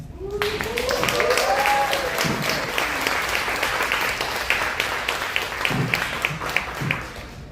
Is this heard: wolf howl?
no